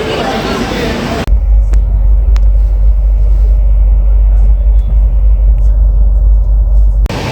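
A train pulls into an Indian railway station platform with a loud, sustained low rumble that lasts for several seconds, with voices speaking over it.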